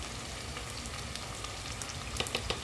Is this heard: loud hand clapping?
no